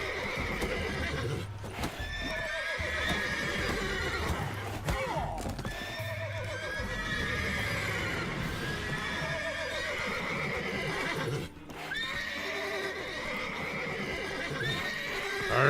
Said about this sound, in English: Settle down, horses.